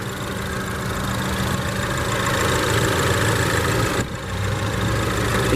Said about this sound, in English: this one does have Land Rover's 2-liter turbo 4-cylinder